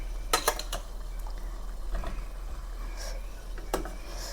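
A spoon scraping and clinking against a pan while coriander wadi are flipped during steaming, a few sharp metallic taps and scrapes over a low steady hum, close and fairly quiet.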